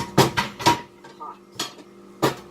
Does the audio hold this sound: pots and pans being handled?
yes